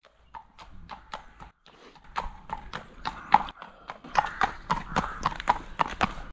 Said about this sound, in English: we've seen a horse go through the ford